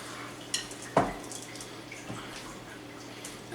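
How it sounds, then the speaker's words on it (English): A spatula stirs chocolate chips into thick cookie dough, giving a couple of sharp scraping knocks against the bowl and then softer, muffled mixing sounds. "Just going to stir this around until you get chips and batter all incorporated together."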